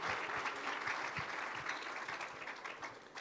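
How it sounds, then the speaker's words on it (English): Brief burst of steady audience clapping at a school graduation ceremony, fairly faint and even for a few seconds, with a few heavier claps standing out. "give a warm round of applause to every speaker that passed here"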